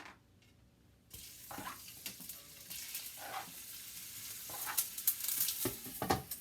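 Beef smoked sausage hits hot oil with a sudden sizzle that swells into steady crackling frying, with bursts of louder spitting, close up.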